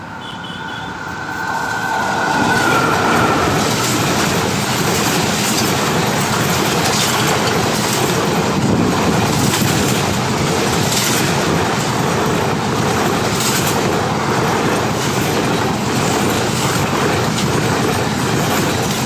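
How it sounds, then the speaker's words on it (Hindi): A train on a Punjab rail line rushes past at its maximum permitted speed, loud and close, with a steady roar and rapid wheel clatter that builds within seconds and holds through the pass. "अपनी मैक्सिमम परमिसिबल स्पीड पे आ रही है ट्रेन।"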